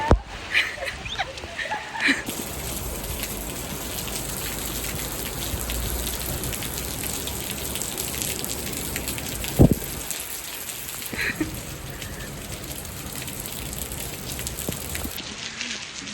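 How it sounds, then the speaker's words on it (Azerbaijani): Heavy rain pours down in a dense, constant hiss, with a few sharp knocks and splashes standing out close by. "Allah necə yağır. Dəhşət yağır, dəhşət."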